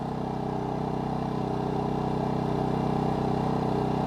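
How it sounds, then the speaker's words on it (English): A MaxpeedingRODS 4000 watt dual fuel generator runs at normal speed in a garage about 20 feet away, a steady, even engine drone with a low hum that holds constant throughout. "So we are about 20 feet away from that generator here in the garage. It is not in eco mode or low idle mode."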